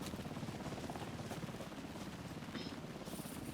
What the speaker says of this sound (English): I think there's a helicopter somewhere.